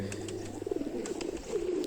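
Pigeons coo close by, low rolling calls that repeat throughout the short stretch, with no talk.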